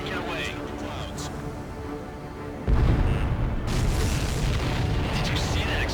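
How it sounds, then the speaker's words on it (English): A large explosion as an enemy supply ship is destroyed in the Ace Combat 7 flight combat game, a sudden heavy boom at mid-clip that rolls into sustained low rumble beneath jet noise and radio chatter. "Did you see that explosion?"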